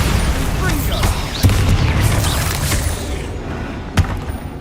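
The Bombarda spell explodes in the wizarding game Hogwarts Legacy against spiders: heavy booming thuds and bursts, one strong hit near the middle and another toward the end, among ongoing combat noise and a voice.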